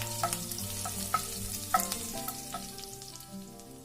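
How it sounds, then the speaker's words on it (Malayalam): Chopped garlic and green chilies fry in hot oil, a steady close sizzle with a few sharp clicks and scrapes of a spoon stirring the pan. "എണ്ണ ചൂടായ ശേഷം നമുക്കിതിൽ കുറച്ച് അരിഞ്ഞു വെച്ച വെളുത്തുള്ളി ആഡ് ചെയ്ത് കൊടുക്കാം."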